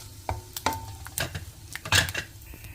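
Dried red chillies frying with lentils in a pan, a faint sizzle broken by several scraping stirs and clinks of a spoon against the pan.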